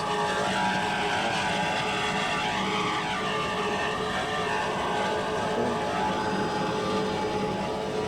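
Racing powerboat engine in the modified class at a 1983 APBA race in Coral Gables, droning loud and steady as the hull throttles over rough water, with rising and falling tones across the run and no talk.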